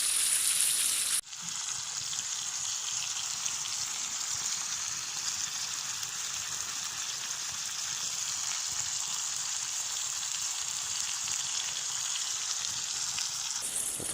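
Campfire at a bushcraft bivouac gives a steady dense crackle and hiss, close and even throughout, after a brief louder opening moment.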